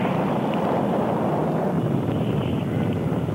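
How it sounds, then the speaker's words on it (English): Apollo 11 rocket liftoff: a dense, unbroken roar fills the whole clip at steady, heavy loudness, with no voices. "Liftoff on Apollo 11."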